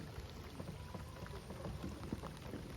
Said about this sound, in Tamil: நல்ல இப்போ பார்த்தீங்கன்னா நல்ல மழை வருது